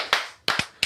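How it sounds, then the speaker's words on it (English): Two crisp hand claps ring out close up in a quiet room, then a third follows just after, with a short gap between the sharp slaps. "2 claps and a Ric Flair."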